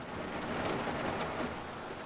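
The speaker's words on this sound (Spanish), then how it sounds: "el sonido de la lluvia" Steady rain falling in port in the UBOAT WWII submarine simulator game, a dense continuous patter with no voices, even and moderately loud across the whole stretch.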